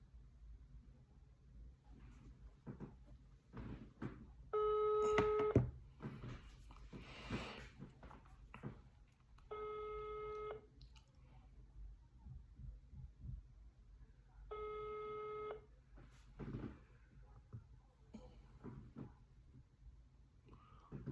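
Outgoing phone call ringback tone waiting for an answer: three evenly spaced, clean electronic rings about five seconds apart, each lasting about a second, over a faint, quiet room background.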